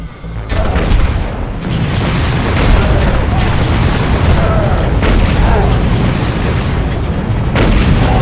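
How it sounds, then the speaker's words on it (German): Rockets explode in Far Cry combat, a dense, loud barrage of booming blasts and rumble running continuously with sharp bursts, with a voice speaking over it. "Ja, der schießt also auch im Nahkampf mit den Raketen"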